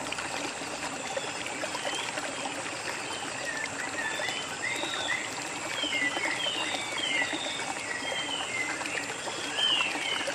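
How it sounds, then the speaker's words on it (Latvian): The Cascade du Bayehon, a nine-metre waterfall near Malmedy, Belgium, makes a steady rushing wash of falling water, with birds chirping faintly over it throughout. "jūs dzirdat, cik skaļi tek ūdenskritums"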